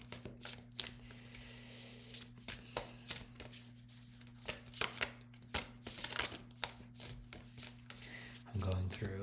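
Repeated soft riffling and tapping of cards being shuffled, with quiet pauses between bursts and a steady low hum underneath.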